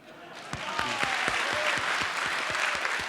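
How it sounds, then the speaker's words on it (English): A lecture audience breaks into applause: dense, even clapping from a crowd that starts quickly and holds steady for a few seconds. "you should give him an even bigger one"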